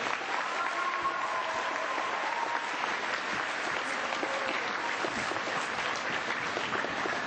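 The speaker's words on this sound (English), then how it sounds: "go ahead, clap for Mr. Walker and the Fanning family" Sustained audience applause at a school program, an even wash of many hands clapping from a sizable crowd, steady and unbroken throughout.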